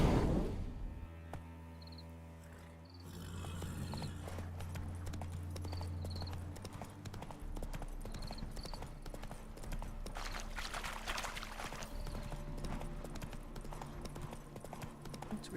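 Hooves clip-clop in a steady rhythm as a horse moves through a fantasy game world, soft and moderately distant beneath background music and ambient tones.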